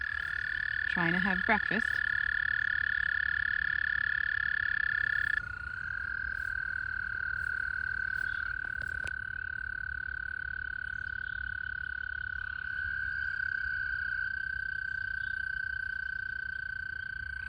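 Frogs croak and trill steadily early in the season at a backyard pond, a sustained high ringing chorus running throughout with a brief burst of calls near the start, and a person speaking briefly over it.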